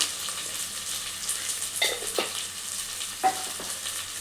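Garam masala and coriander powder frying in a pan for tomato rice, giving a close, steady sizzle with a few brief stirring scrapes and no talking.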